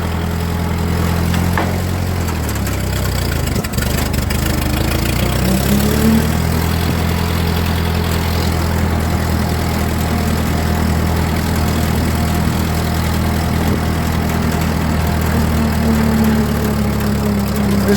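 An old Ford 9N/2N/8N tractor rolls in second gear, its gears and transmission giving off a steady whine over a loud, continuous engine drone that shifts pitch briefly early on, then holds even.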